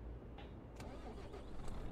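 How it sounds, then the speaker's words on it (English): The Volvo NL12 Intercooler truck engine in Euro Truck Simulator 2 cranks and catches, settling into a low, fairly quiet rumbling idle with a few sharper mechanical clicks on top. "So we'll start it up again, turn the ignition on."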